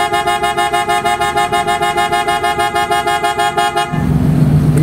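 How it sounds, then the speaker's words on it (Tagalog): A PIAA Superior Bass Horn fitted to a 2017 Honda Jazz sounds in a rapid series of loud, close, pulsing honks, then stops abruptly, leaving rumbling ambient noise. "pakinggan natin mga boss ngayon mga boss yung tunog ng Superior Bass Horn"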